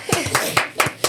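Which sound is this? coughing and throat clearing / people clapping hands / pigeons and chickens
people clapping hands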